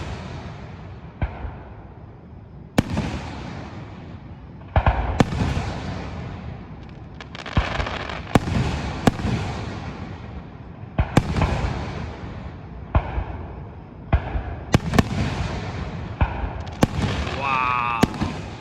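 A fireworks finale goes off with shells fired two or three at a time, a dense run of loud sharp bangs and crackling bursts over continuous rumble, with people cheering and talking faintly underneath.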